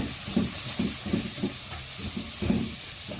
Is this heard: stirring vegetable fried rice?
yes